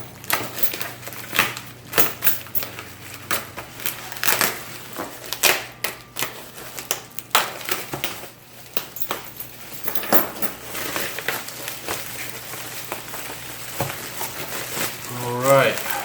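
Bubble-wrap packaging on a package is pulled and unwound, making scattered crinkling, crackling and rustling bursts close by, with pauses and occasional speech between them.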